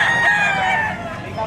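Roosters and chickens at the Padre Garcia, Batangas livestock auction market crow and cluck in a dense chorus of overlapping calls, close and fairly loud, with people talking faintly underneath.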